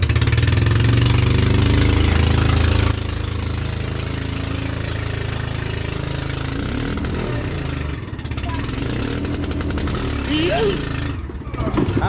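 A boat's engine running on a fishing vessel, a loud close throbbing drone that drops to a quieter steady chug after a few seconds, with people talking and shouting over it.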